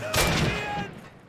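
Burst of gunfire in the Call of Duty video game, a loud rapid volley with bright crackling shots up close, fading quickly within about a second; no talk over it.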